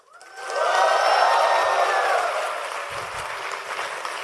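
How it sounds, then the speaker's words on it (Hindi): A crowd at the Devfest Indore 2022 tech community event bursts into loud applause mixed with whooping cheers and shouts, swelling quickly and then easing off gradually toward the end. "तो एक बार जीडीजी इंडोर के लिए शाउट और तालियां जोर से हो जाए।"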